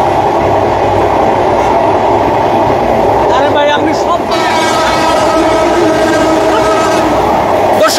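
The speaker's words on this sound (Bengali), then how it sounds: "দর্শক দেখছেন পদ্মা সেতুর ভেতরে ঢুকছে ট্রেন" A broad-gauge train from Dhaka's Kamalapur station rolls onto the Padma Bridge. Loud continuous rumble and clatter of rail cars sound up close, with a horn-like tone, while someone talks over it.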